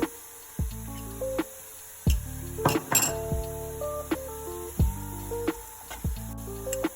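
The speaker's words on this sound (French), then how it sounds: "Et on mélange. Et de là, tomates concentrées." Börek filling mixed with tomato paste in a bowl, heard as a series of close, crisp clinks and taps of a utensil against the bowl, coming in an irregular rhythm with short pauses between strokes.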